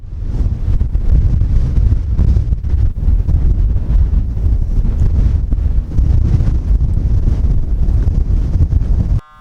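Strong, continuous wind on a mountain in Scotland roars and buffets a microphone, a heavy low rumble that stays loud throughout before cutting off abruptly at the end.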